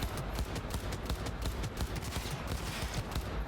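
Rapid gunfire from shooting enemies in Cyberpunk 2077, a dense, steady barrage of shots that carries on for several seconds at an even loudness, with no talk over it.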